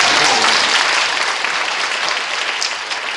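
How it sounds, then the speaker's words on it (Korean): Audience clapping at a Korean church gathering honoring teachers: dense, loud, sustained applause from a large crowd that tapers slightly over a few seconds. "박수 한번 할까요?"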